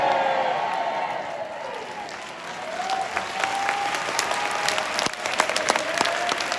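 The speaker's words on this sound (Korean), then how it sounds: "홍동명이도 두 손 들고 만세하고 박수 치는데" An audience applauds during a sermon at a Christian mission centre's Puritan Bible school in Sangju, with steady, dense clapping that swells slightly toward the end.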